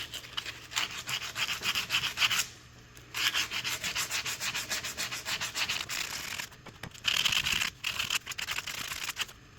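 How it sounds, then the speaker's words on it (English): Hand file smoothing the aluminum alternator housing of a 1979 VW Super Beetle, close rhythmic rasping strokes in bursts separated by short pauses, with no voices. "that file took it down a bit"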